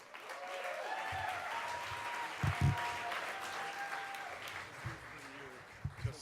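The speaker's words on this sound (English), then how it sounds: "Big round of applause for Tom." A small live storytelling audience applauds as a storyteller comes to the stage, moderately loud steady clapping with a few voices and thumps mixed in, fading slightly toward the end.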